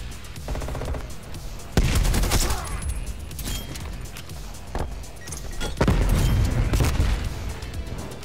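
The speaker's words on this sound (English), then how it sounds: "Multiple hostile sentry turrets working your AO." Sentry turrets fire in a video game battle, with bursts of rapid gunfire and sharp blasts in two loud clusters over a busy, rumbling combat background.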